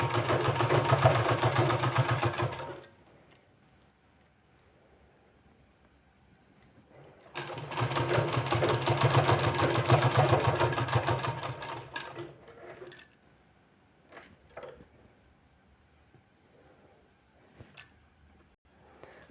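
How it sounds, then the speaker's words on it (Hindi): An electric sewing machine stitches a sleeve in two long, steady whirring bursts separated by a quiet pause, followed by faint handling clicks and rustles. "अटैच कर देना है, सिलाई लगा देना।"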